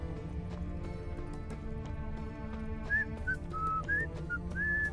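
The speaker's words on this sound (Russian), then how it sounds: "Не свисти, денег не будет." A melodic whistled tune in the video game The Witcher 3, a few rising and held notes entering midway over steady horse hoofbeats clip-clopping along, all fairly close and clear.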